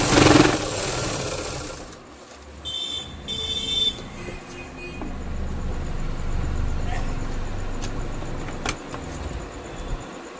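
An industrial sewing machine stitches the back pocket of a pair of pants in short whirring bursts, with gaps and faint background noise between runs.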